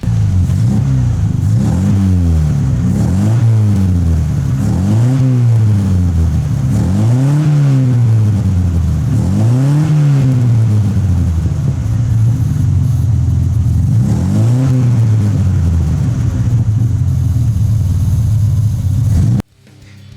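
A car engine with a homemade straight-pipe exhaust revs repeatedly through loud, raw exhaust, rising and falling in a steady rhythm of throttle blips, close up, then cutting off.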